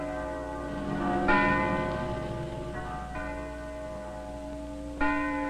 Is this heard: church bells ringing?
yes